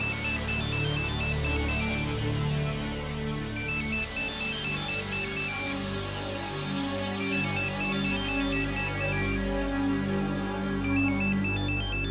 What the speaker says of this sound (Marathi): त्या मुधोळकरला फोन लावा.